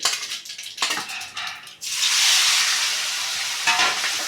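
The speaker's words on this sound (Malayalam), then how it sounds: "കുരുമുളകും ഉപ്പും മഞ്ഞൾപ്പൊടിയും കൂടെ ചേർത്ത് ഇത് വറുത്ത് കോരും" Loud, steady sizzling of prawns frying in hot oil with pepper, salt and turmeric, preceded by a few seconds of stirring and scraping in the pan.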